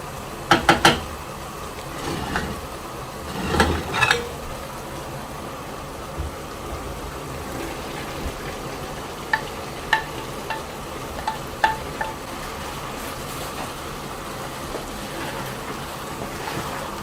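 Minced beef with capsicum sizzles softly in a pan, with a few sharp scrapes of stirring near the start and scattered light clicks of the spoon afterward over a steady frying hiss.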